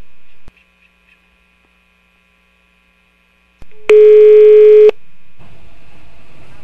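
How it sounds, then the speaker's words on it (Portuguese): A telephone line for a prank call gives a steady hum, then after a short silence a single loud one-second tone sounds, followed by faint line noise. "Então vai, a Cunha, ligue de novo, ligue"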